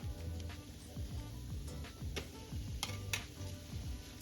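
Shrimp go into a frying pan with softened carrots and vegetables for an egg roll in a bowl, stirred with repeated scraping and clinking strokes over a steady close sizzle.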